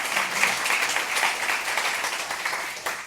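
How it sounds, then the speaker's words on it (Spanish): An audience at a CaixaForum Macaya talk applauds a panelist, lively close clapping with many distinct hand claps at steady strength that fades slightly at the very end. "Un aplauso, por favor, para Delia."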